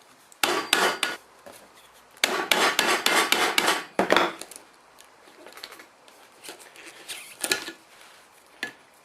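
Chisel cutting through a Nissan Patrol radius bush, with bursts of close, harsh scraping and rasping strokes in clusters, pauses between them and a few sharp taps, no talk.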